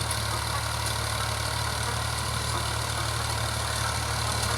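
A farm tractor engine idling steadily in a village field, a constant low mechanical hum with a faint rattle, close by and unchanging throughout, with no voices.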